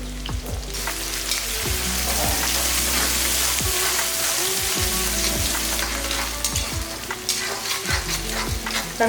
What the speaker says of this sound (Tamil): வெங்காயம் இந்த அளவுக்கு நல்லா வதங்கினா போதும்.